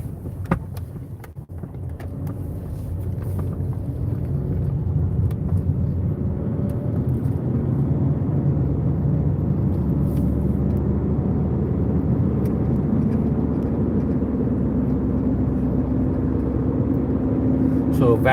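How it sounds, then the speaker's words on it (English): A car driving along a road near a closed neighborhood street, a steady low engine and tire rumble from inside the vehicle that rises in the first seconds and holds, with no speech. "so I'm gonna start driving"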